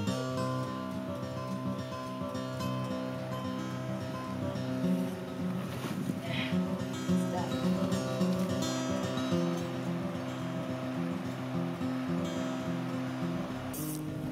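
Springtime river rushes in a steady, dense wash of water noise that holds constant and fairly faint throughout, with no voices.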